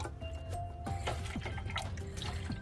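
Water runs steadily from a tap into a sink, a continuous splashing hiss with low hum underneath and small clinks, close by.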